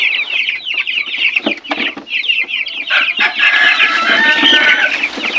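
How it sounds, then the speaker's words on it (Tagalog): A flock of 45-day-old broiler chickens eating feed, clucking and squawking busily close by, with scratchy pecking noises building into a dense, steady chatter. "tingnan ninyo kung gaano kalakas kumain po yung mga 45 days na manok na to, mga broiler."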